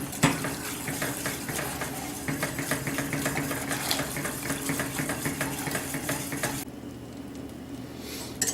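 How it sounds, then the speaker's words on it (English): A kitchen water tap runs steadily while hands are rinsed during cooking of a crockpot pork loin with keto gravy, a close hissing stream that stops abruptly near the end. "And rinse my hand off while I'm over here."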